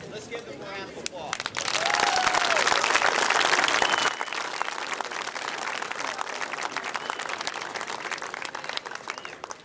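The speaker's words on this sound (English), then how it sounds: "Let's give them a round of applause." An audience at a college homecoming football game applauds, the clapping swelling loudly and then settling into steady, fainter applause that carries on to the end.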